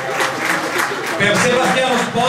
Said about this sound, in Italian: E poi applausi per Andrew Ramaglia